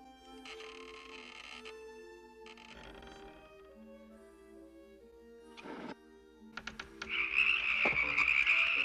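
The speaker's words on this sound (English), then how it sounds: "They're only frogs, Ilonwi." Frogs croak in a swampy witches' setting in an animated story, a rhythmic chorus of calls building to a louder, denser din near the end amid background music.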